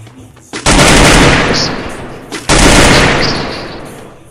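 Video game gunfire: two long, loud bursts of rapid automatic shooting, the first roughly two seconds and the second following almost immediately, with a brief pause between them.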